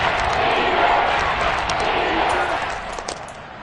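A stadium crowd at a Steelers–Chiefs wildcard football game roars in a steady, broad wash of cheering that holds loud throughout, with no clear voices standing out.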